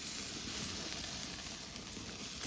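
Thinly sliced meat marinated overnight sizzles and crackles over a fierce, hard-to-control barbecue fire, a steady close hiss with no talk.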